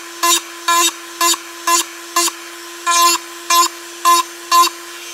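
A power tool bevels the edges of a kydex holster in nine short, even bursts of high whirring grind, each about a quarter second long and separated by brief pauses. Close and loud, no voices.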